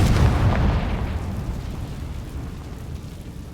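A Confringo fire spell explodes in the Hogwarts Legacy video game, a loud, broad blast that rumbles and slowly fades over a few seconds with no talking.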